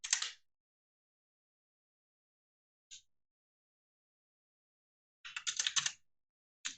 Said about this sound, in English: So again, now I'm just typing in 20 feet.